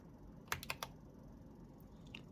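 Quick burst of clicky keystrokes on an Akko Sakura Jelly mechanical keyboard, four or five close, crisp presses in a row, then a couple of fainter taps, quiet and without talk.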